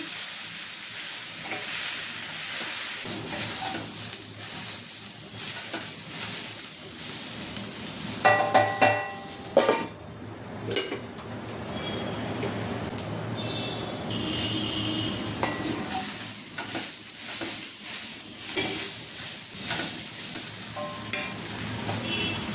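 Okra sizzles and fries in an open pan with little oil while a utensil stirs and scrapes it, with occasional clinks and louder bursts of crackling.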